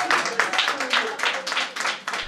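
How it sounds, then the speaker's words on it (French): Applause from a crowd of graduates and guests at an accounting training certificate ceremony, a steady dense clatter of many hands lasting throughout, fairly close and moderately loud, with faint voices underneath. "Ces applaudissements traduisent littéralement la joie et la fierté ressenties par ces hommes et ces femmes"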